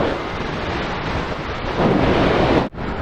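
Strong, steady wind roars across the microphone of a paraglider flying low and fast on full speed bar over Dubai. The rush swells slightly near the end, then drops out briefly before resuming, with no talking.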